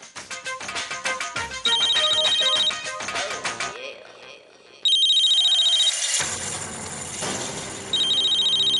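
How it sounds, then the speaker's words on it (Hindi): A telephone ringtone plays nearby as a bright, repeating melodic pattern of chiming tones, breaking off briefly in the middle before resuming in loud bursts over faint background sound. "अरे मेरे इस नंबर पर फोन कैसे आ सकता है?"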